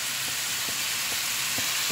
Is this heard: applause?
no